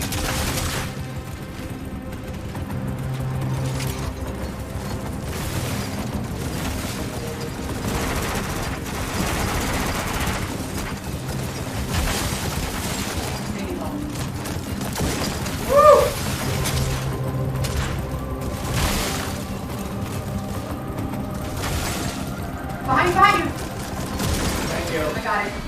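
Gunfire in a subway-set video game, a dense continuous fusillade of rapid shots and clatter lasting throughout, with a couple of louder bursts near the end and voices talking underneath.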